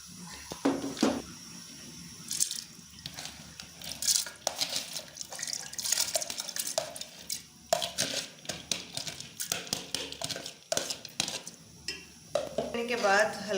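Moong dal tipped into a cooking pot and stirred with a spoon, giving close, loud clatters, scrapes and wet splashing in uneven bursts, with occasional brief gaps.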